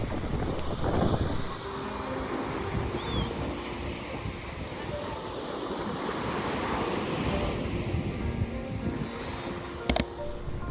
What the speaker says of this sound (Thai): ฟังเสียงคลื่นริมชายหาดค่ะ